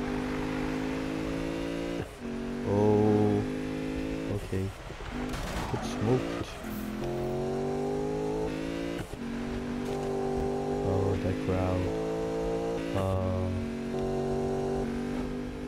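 A Ford Mustang GT street build and rival cars race a sprint in Need for Speed. Engines roar and rev loudly through repeated gear shifts, with tire squeals and skids scattered throughout.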